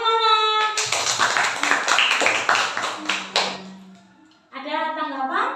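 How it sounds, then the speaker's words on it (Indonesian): A classroom group claps hands in a burst of applause lasting a few seconds, dense and fairly close, with a person talking before and after. "tepuk tangannya mana?"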